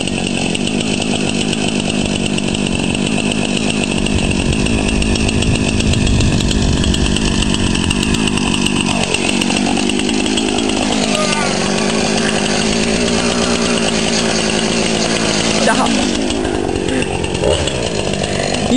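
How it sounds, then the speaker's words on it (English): A chainsaw runs continuously and loudly, its engine pitch dipping and rising as it labors, with a voice speaking over it. "chainsaw's still running"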